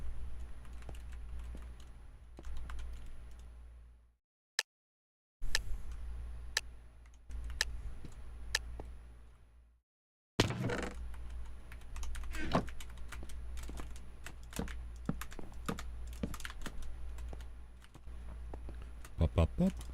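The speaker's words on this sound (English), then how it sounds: "All my clicky clacks on my keyboard are loud." Loud, clicky computer keyboard typing in rapid irregular bursts of sharp clacks during a gaming session, with two brief silent gaps, running steadily under talk.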